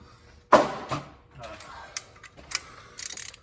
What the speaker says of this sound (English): Got that one torqued to at least 17 with that small wrench.